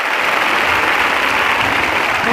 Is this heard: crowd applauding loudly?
yes